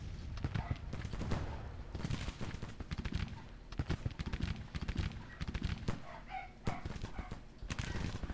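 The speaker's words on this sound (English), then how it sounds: "Hearing musket fire is like cleansing for my soul." Rapid, uneven crackle of massed musket volleys in the Civil War strategy game Grand Tactician: Civil War, sustained and dense throughout with a loud, battlefield roar underneath.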